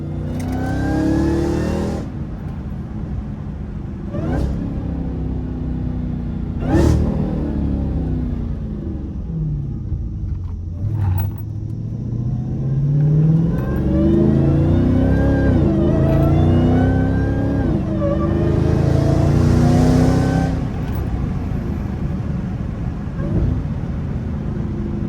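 Dodge Challenger Hellcat Redeye engine revving and accelerating hard on a country road, a loud, continuous roar rising and falling through gear changes with sharp pops between pulls.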